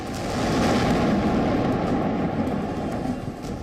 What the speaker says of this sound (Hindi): गाजा की इस बिल्डिंग में अचानक 5 धमाके हुए।